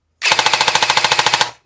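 CYMA SR25 airsoft rifle firing a short full-auto burst at a slow cycle, about fifteen evenly spaced mechanical clacks in just over a second, close and loud, alone.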